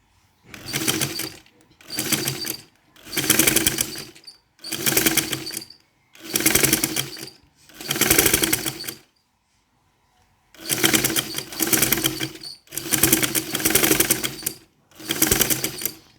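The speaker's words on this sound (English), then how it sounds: "I'm sewing at the edge of the crinoline" A sewing machine stitches along the edge of crinoline in steady bursts of about a second each, close and loud, with a longer pause before the last few runs.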